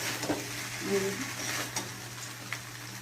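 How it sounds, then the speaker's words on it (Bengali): Pasta being stirred as it fries in a pan, a steady low sizzle with soft scraping stir strokes and a few small clinks, close and fairly quiet. "পাস্তাটা দিয়ে একটু নাড়ছি।"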